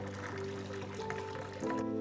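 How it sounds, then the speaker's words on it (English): Cooking water being drained from boiled rice cakes, a steady close pour of liquid running and splashing for a couple of seconds. "Then drain out the water from the rice cakes."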